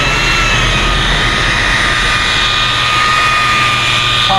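A rotary polisher running at 1800 RPM buffs 3D ACA 520 polish into the wet-sanded SPI Euro clear coat of a classic lowrider, giving a loud, steady, close motor whine with a constant hum, uninterrupted and with no voices.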